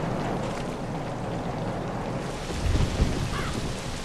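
Steady rain with rumbling thunder in the zombie video game ZOMBI, a continuous wash of downpour with a low thunder swell rising near the end, no talk over it.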